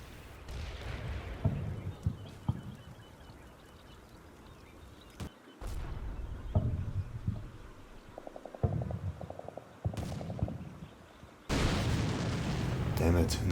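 In the Combat Mission Black Sea war game, an Abrams tank is destroyed amid several sharp explosive blasts and booms, separated by quieter stretches, ending in a loud, sustained roar of fire.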